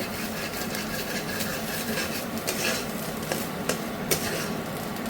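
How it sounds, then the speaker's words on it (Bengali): Kharkol leaf paste fries in a wok over medium heat while a utensil stirs and scrapes it, producing a steady soft hiss broken by irregular light metallic scrapes and taps, with no talking. "এবার এটাকে শুকনো করে মিডিয়াম আঁচে কড়াই ছেড়ে আসা অবধি, মানে এই কড়াইয়ের গা ছাড়া করা অবধি ভাজা করব।"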